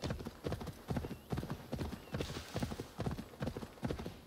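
Horse hooves clip-clop in a steady, regular rhythm while riding in the game Assassin's Creed Valhalla, even and moderately quiet with no talk over them.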